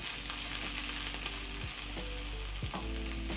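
Carrots sauteing in a pan for a vegetable noodle dish, a steady sizzle with spoon scrapes and stirring sweeps every second or so, close and even, with no talking.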